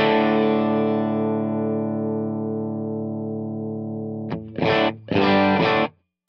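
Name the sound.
electric guitar through Fractal FM9 amp model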